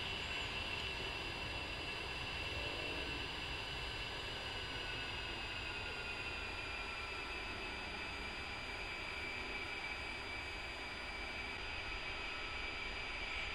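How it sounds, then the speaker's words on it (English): An A-10C jet taxiing in the DCS flight simulator game, a steady, loud turbine whine and broad engine roar that holds constant with no talk. "I'm going to start our taxi"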